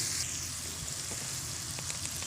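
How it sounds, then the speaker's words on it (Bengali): Chopped onions fry in leftover oil and are stirred, giving a steady, close sizzle with faint crackles and soft scraping throughout and no voices. "তো পেঁয়াজ কুচি দিয়ে ভালো করে নাড়াচাড়া করব যতক্ষণ পর্যন্ত না পেঁয়াজগুলো একটু নরম হয়ে আসে।"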